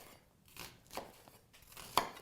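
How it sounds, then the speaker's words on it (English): A knife cuts through an onion on a cutting board, giving a few separate, fairly quiet chops spaced unevenly, with the last one sharper and louder than the rest. "So let's start by cutting our onion"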